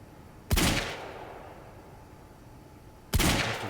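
Heavy pistol fire in the Quantum Break video game: two loud, sharp shots about two and a half seconds apart, each with a booming tail that fades slowly, with no voices.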